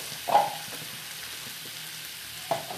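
Onions with ginger, garlic and turmeric frying in a pan for an egg curry, giving a soft, even sizzle with two brief scraping stirs, one early and one near the end.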